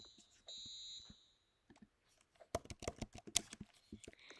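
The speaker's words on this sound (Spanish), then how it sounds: "Esta es la alarma de fuego." Fire alarm in a Roblox Brookhaven game: a steady electronic tone sounds briefly, followed by a quick burst of clicky tapping like typing, fairly quiet, with no speech.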